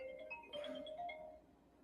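A mobile phone ringtone plays close by, a short bright electronic melody of rising and falling tones that rings alone for under two seconds.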